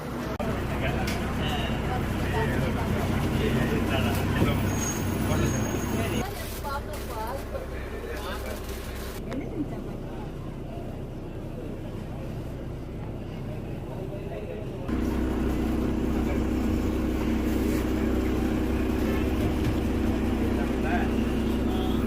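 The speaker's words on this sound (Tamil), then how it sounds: "செங்கோட்டையில் இருந்து ஆவடி வரைக்கும் ஆப்ரேட் பண்ணக்கூடிய பஸ்ஸு." Low engine drone and road rumble inside a crowded non-AC seater bus running from Sengottai to Avadi, steady throughout with a dip in loudness mid-way, and voices of passengers talking under the noise.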